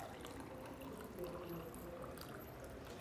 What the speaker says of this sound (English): So the water jar will still rest on the service plate as you serve water.